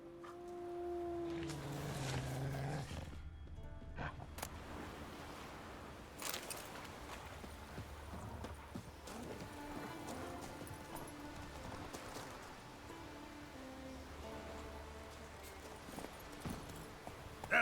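Hooves of Roach, the horse in the video game The Witcher 3, clopping faintly in a steady walking rhythm under game music and ambience.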